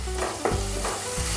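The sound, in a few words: chopped tomatoes frying with softened onion in pan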